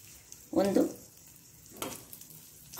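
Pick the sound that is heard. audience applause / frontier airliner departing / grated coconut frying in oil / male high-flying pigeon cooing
grated coconut frying in oil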